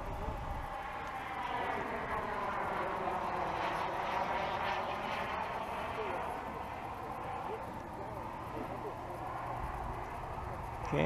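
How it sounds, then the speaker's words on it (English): A Top RC Models Voyager RC airplane flying a low gear pass produces a steady engine drone whose pitch sweeps up and then falls as it passes by, sustained and moderately loud throughout. "Dave's bringing the Voyager on a gear pass."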